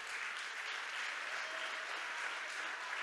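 A church congregation applauds during a worship service, a steady, dense wash of clapping that holds at an even level throughout with no voices standing out.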